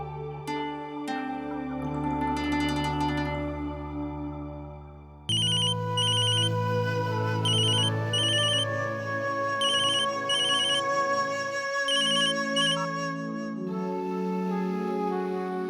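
A mobile phone ringtone plays a bright, repeating electronic melody, clear and fairly loud, with no voices.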